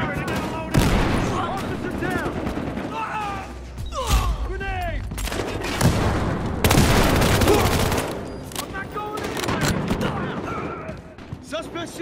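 Gunfire in the video game Battlefield Hardline comes as rapid bursts of automatic fire mixed with explosions and shouted voice chatter from players, loud and close.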